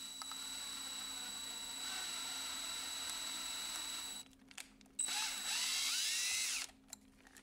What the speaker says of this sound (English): now I want to use one of the screws to tap the threads of the screw